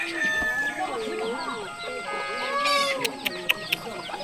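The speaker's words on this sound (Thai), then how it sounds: "ฟังแต่เสียงเป็ดเสียงไก่นี่ก็สะอ่อน" Ducks and chickens call in a forest Lahu village where animals are raised for food and sale, a mix of quacks, clucks and crowing at moderate distance with a few sharp knocks near the end.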